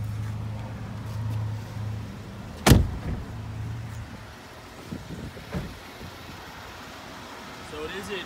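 A Jeep Wrangler door shuts with one sharp, loud thump midway, after a low engine hum that drops away. Quieter rustles and small knocks follow.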